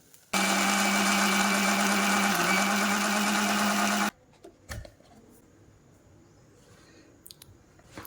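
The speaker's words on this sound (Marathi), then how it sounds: "ते मी आता मिक्सरच्या भांड्यामध्ये बारीक ग्राइंड करून घेते" A mixer grinder whirs loudly and steadily for about four seconds, grinding tomato and onion for gravy, then switches off, leaving faint kitchen clatter.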